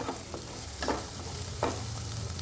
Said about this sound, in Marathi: आता आपण त्यात लसूण पाकळ्या घालूया आणि आलं घालूया आणि थोडा वेळ भाजून घेऊया